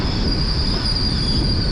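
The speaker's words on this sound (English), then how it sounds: "LNER service from Aberdeen to London King's Cross" LNER train service from Aberdeen to London King's Cross pulling into a station platform on the Fife Circle, with steady loud rumble, rail noise and squealing wheels running throughout, no voices.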